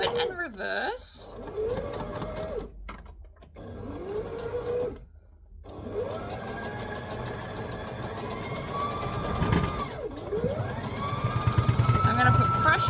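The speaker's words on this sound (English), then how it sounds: "So I'm just going to stitch forward and reverse." A domestic sewing machine runs straight stitching on pink dress fabric, its motor whirring in bursts that rise and fall as it stitches forward then reverses, with short pauses between runs and rising pitch near the end.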